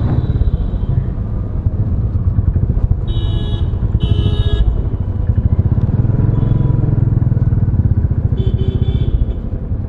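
A motorcycle rides on a Republic Day outing in Moradabad, its engine a steady, loud, close rumble throughout, with brief high buzzing tones breaking in a few times.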